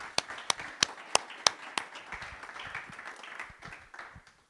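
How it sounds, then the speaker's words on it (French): Applause from a small audience at an evening talk on pay disparities: a few sharp, loud claps up front, then scattered lighter clapping from the room that thins out and fades. "on va vous applaudir pour vous remercier"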